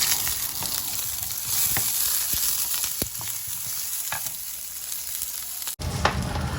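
Sausages frying with onion in a pan give a steady bright sizzle, broken by scattered sharp clicks and scrapes from stirring, with a brief dropout near the end before the crackle resumes.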